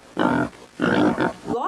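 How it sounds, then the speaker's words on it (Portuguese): A pig grunts and oinks in two rough, low bursts, close and fairly loud, followed by a brief higher squeal at the end. "Porco, que som que você faz?"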